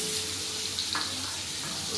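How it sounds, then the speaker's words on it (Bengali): Potatoes frying in mustard oil in a wok (kadai), a soft, steady sizzle close by with a faint hiss throughout, no voices. "আরও সর্ষের তেল দিয়েছি, দিয়ে আলুগুলো ছেড়ে দিচ্ছি।"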